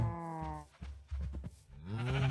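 Cows in the video game Minecraft give several drawn-out moos back to back, loud and close, some overlapping, with no talk.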